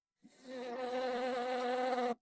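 A bee's buzzing in an animated scene, a steady, close drone of nearly two seconds that holds one pitch with rich overtones, heard alone with no talk.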